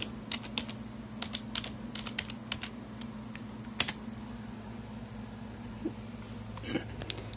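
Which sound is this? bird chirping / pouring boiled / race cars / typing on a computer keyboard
typing on a computer keyboard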